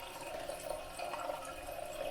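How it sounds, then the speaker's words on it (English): A toilet cistern slowly refills with water, a steady close hiss and trickle that runs on evenly without pause. "When the cistern is slowly filling up as it's doing now,"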